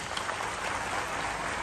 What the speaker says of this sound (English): May I request the invitees to give a warm round of applause.